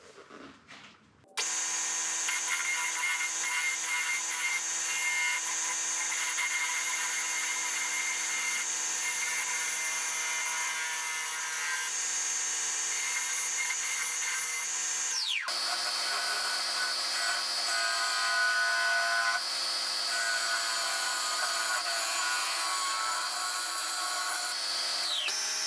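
A wood lathe turns mulberry wood at 1400 RPM, starting after a short pause and then droning loud and steady with a cutting rasp, shifting pitch once partway through as the tool bites.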